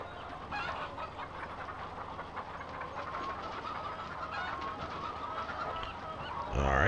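Chickens honk and squawk while being loaded onto a livestock trailer in Farming Simulator 2015, a steady crowded clucking chorus with a louder burst at the end.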